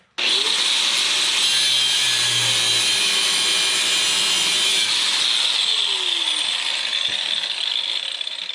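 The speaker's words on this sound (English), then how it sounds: "Pull these as far through as you can, and we'll just grind them off." An angle grinder cuts off spindle parts on a John Deere 455 mower deck, producing a loud, continuous, high-pitched metallic whine and hiss that holds steady from start to finish.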